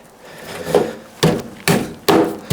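Standard 1.5-inch-wide lumber slid into the sides of a BORA Speedhorse XT sawhorse, giving several sharp wooden knocks and thunks close up, spaced about half a second apart.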